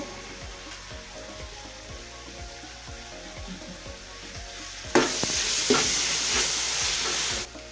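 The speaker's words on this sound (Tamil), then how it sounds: "புதினா கொஞ்சம் தக்காளி வெங்காயம் பச்சை மிளகாய் இதெல்லாம் வதங்கணும்" Mint, tomato, onion and green chillies sauté in a pan for chicken biryani, a steady moderate sizzle with scraping stir strokes, which swells into a louder, brighter hiss partway through.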